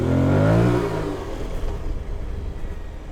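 An off-road adventure motorcycle engine revs up loudly and close, its pitch climbing in the first second before settling into a rough, throbbing idle with no talking.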